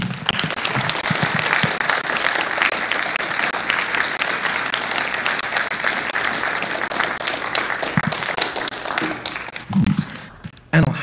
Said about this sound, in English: Let's give him one more really big round of applause, you guys.